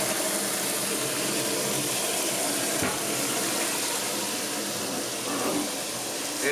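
Running water from a tap rinsing home brewing equipment before sanitizing, a steady broad wash of splashing flow heard close and alone throughout.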